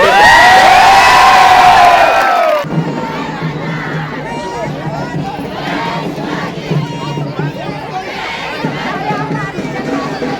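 A large crowd at a political campaign rally roars and cheers, with a loud burst of shouting at the start giving way to sustained, dense crowd noise of overlapping voices and whoops.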